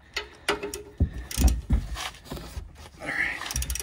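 Torque wrench tightening a lug nut on a 2016 RAM 1500, a run of close clicking ratchet strokes and metal clunks in uneven bursts, no talk.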